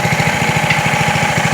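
A small drift trike engine runs steadily and loud at close range, its rapid even firing pulses chugging without a break and no voices.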